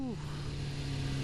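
A fast motorcycle engine drones steadily during a night ride, a strong low hum with rushing wind noise and a brief falling tone at the start.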